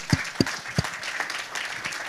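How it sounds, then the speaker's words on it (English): Audience applause at a marketing masterclass talk, a few sharp claps standing out near the start before settling into a steady, moderately loud patter of hands with no voices. "let's clap first because that was really good"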